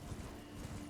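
Horse hooves in Elden Ring clip-clop in a quick, steady rhythm, close and fairly loud, over a short stretch with no speech.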